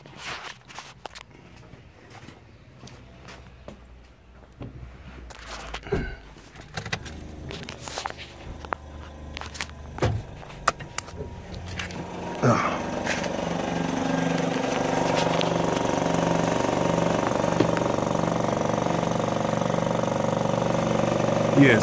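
A stage-1 1987 Buick Regal-T with a 455 engine and mechanical fuel pump bypass idles steadily after the fuel switch is flipped, a loud continuous engine drone rising and holding after scattered clanks and rattles earlier on.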